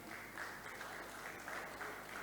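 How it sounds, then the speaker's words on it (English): Applause from the audience at a travel and tourism expo in Ibadan. The clapping is a continuous, even patter that sounds faint and distant in a large hall. "Please, a round of applause for Mr. Ogunbiyi."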